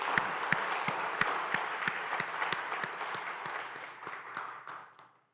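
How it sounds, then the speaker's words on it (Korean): Congregation at a Sunday morning church service applauding the choir, with rhythmic unison claps over a bed of scattered clapping that gradually fades out at the end. "우리 다시 한번 격려 박수 한번 해드리겠습니다."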